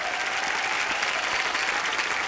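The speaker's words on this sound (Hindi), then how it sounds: "एक बार बच्चा के लिए जोरदार तालियां" A TV studio audience at a comedy talk show breaks into dense, steady applause, a loud continuous wash of many hands clapping together with no voices heard over it.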